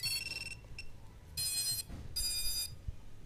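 A Reptile Cloud 149 HD V2 FPV cinewhoop's LED buzzer sounds after a 3S battery is plugged in: a short high electronic beep followed by two longer loud tonal beeps, close and alone.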